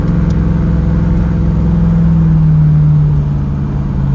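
A 1981 Trans Am V8 with a B&M shifter revs steadily in neutral, a loud, close, continuous low rumble that rises slightly in pitch and then holds, with no talking.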